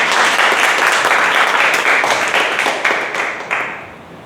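Toastmasters club audience clapping for a contestant at a table topics contest, loud sustained applause from a room full of people that gradually thins and fades toward the end.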